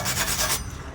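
Brief, close rubbing strokes as a rag wipes loose dirt off the rear brake hub face of a Mercedes Sprinter or VW Crafter van, three or four quick rasping passes before stopping.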